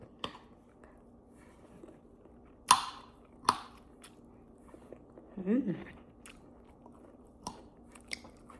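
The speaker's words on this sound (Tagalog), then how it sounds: "titikman na natin yung luto natin na shrimp" Cooked shrimp being eaten, with a few sharp crunchy bites and soft chewing close to the mic, some talking in between, and otherwise quiet.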